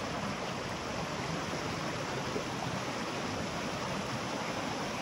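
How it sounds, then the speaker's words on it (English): Water in Fall Creek in the Santa Cruz Mountains rushes in a steady, dense hiss, a constant close stream murmur with no voices. "Let's listen to the water for a few minutes"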